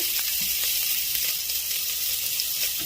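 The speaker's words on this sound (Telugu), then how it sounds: "ఆయిల్ వేడైంది ఇప్పుడు దీనిలో ఆనియన్ పచ్చిమిరపకాయ వేస్తున్నాను" Chopped onion and green chilli sizzle steadily in hot oil in a home kitchen pan, a continuous bright frying hiss with faint crackles throughout.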